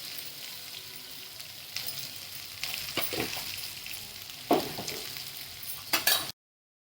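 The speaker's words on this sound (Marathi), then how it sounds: "ते चांगलं तळून घेतो" Colocasia leaf dumplings (alu mutkule) frying in hot oil give a steady, close hiss with sharper crackling bursts near the end.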